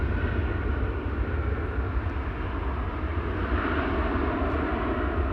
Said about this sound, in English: ETA flight 107 to Rome is coming this way. That's an A320neo.